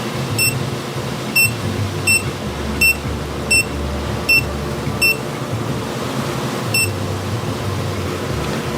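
On a Eufy smart door lock, a keypad gives a string of short, sharp electronic beeps, about eight at fairly regular intervals with a gap before the last, over faint background noise.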